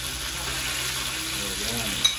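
Tomatoes sizzle in a pan with pork and onions, giving a steady, moderate frying hiss with light stirring and a brief clack near the end.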